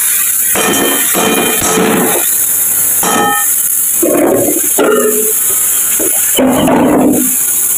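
Dalia (broken wheat) fries with vegetables in a pan, a loud continuous hiss broken by bursts of scraping and clinking as it is stirred.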